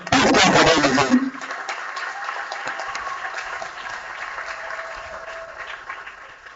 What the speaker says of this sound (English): Please clap for them again.